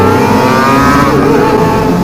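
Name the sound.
motorcycle engine revving loudly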